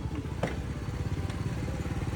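Motorcycle on an off-road riding training course, a close, rough, irregular engine chug with uneven pulsing that sounds labored, as if near stalling.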